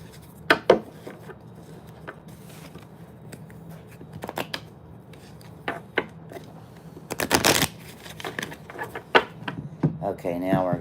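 A deck of playing cards is shuffled at close range with several quick riffling bursts, the loudest near the end, among softer handling rustles and faint background voice sounds.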